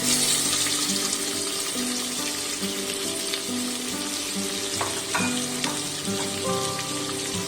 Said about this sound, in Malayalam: ആദ്യം നമുക്ക് 2 സവോള അരിഞ്ഞത് ഇതിലേക്ക് ചേർക്കാം.